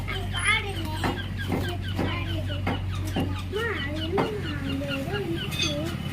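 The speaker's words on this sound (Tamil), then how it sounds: "கோழி" Chickens clucking repeatedly near and far over a low steady hum, with scattered voices and rustling around them, among quail being caught.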